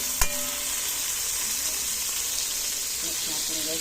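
Mussels stirred in a cooking pot for ginataang tahong, under a continuous close sizzle, with one sharp utensil clink near the start and soft scraping movements after it.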